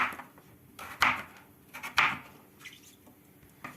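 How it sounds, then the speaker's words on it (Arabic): A knife slicing turnips for pickles, with a few distinct crisp cuts spaced about a second apart, each with a sharp attack and a quick fade, close and moderately quiet, with no talk. "وادي نقطع تاني"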